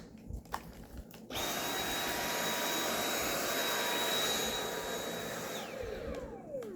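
A Dyson vacuum cleaner switches on after a second of quiet and runs with a steady, loud whine and airy roar, its pitch dropping as it winds down near the end.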